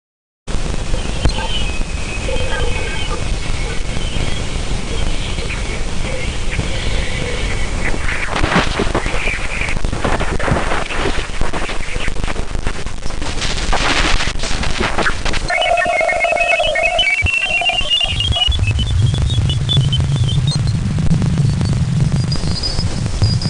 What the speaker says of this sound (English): The sound we are talking about here is the sound of its magnetosphere